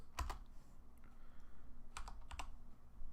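Quiet clicking of keys on a computer keyboard in a few short bursts of typing, with a pause between the first taps and a quicker cluster near the end.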